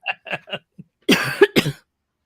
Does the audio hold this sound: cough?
yes